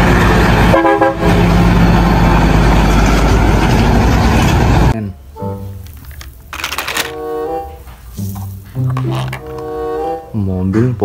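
Toy tow truck honking its horn in a few short toots amid the clatter of other toy vehicles, loud and close after a dense noisy opening, with a voice talking over it.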